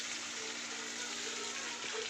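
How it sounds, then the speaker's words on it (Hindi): Steady broadband rush of water running while garden plants are watered in the evening, continuous and moderately loud throughout, with no talk. "दीदी यहाँ पौधों में पानी लगा रही हैं"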